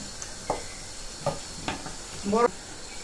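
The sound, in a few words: frying spices in pan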